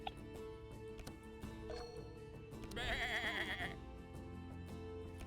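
A sheep in the video game Across the Obelisk bleats once, a short wavering cry over soft game music and ticking effects, moderately loud and alone.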